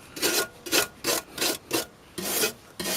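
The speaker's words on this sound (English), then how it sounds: "Upside down, brush it down, clean it off." A wire brush scrubs dirt off a car's underside in seven rhythmic rasping strokes, each a bright bristly scrape, close and loud, with brief pauses between and no talk.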